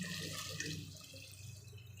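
Measured water poured into rice and dal in a cooking pot for arisi paruppu sadam, a steady close splashing gush lasting a couple of seconds without speech.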